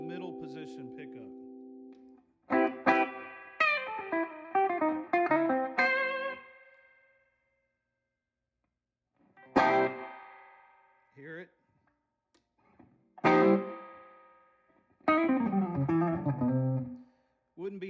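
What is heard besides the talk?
electric guitar through 1963 Ampeg Reverb Rocket amp reverb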